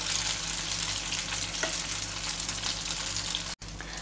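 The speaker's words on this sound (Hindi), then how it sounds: "तो अब इसमें हम तैयार किया हुआ बैटर डालेंगे। बैटर को चम्मच से थोड़ा चारों ओर एक समान फैला दें।" Handvo batter spread over roasted sesame seeds sizzles in a pan, a dense even hiss with a faint low hum beneath, close and steady, cut by one brief dropout near the end.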